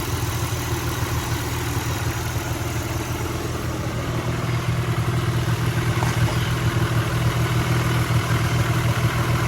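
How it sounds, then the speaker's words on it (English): 2002–2004 Audi A4 engine idling after an engine mount replacement, a steady, even low hum and drone with a faint mechanical clatter, continuous and close with no other sounds. "Motor is working fine. No more shakiness on it."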